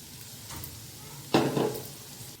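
Pea sundal seasoned with chilli powder is stirred in a pan, a low sizzle underneath with a short scraping swish of the spoon near the middle and a fainter one earlier.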